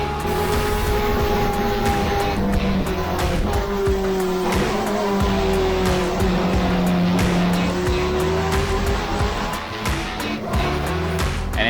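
Spec Miata race cars run bumper to bumper at Road America, engines droning and shifting pitch up and down as a pack, with repeated tire squeal through the corners; loud and continuous throughout.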